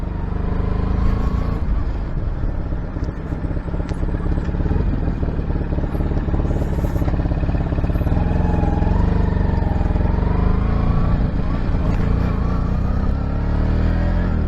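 A motorcycle engine runs continuously while riding through traffic, with a loud, steady drone, slight changes in revs and rushing wind noise from up close.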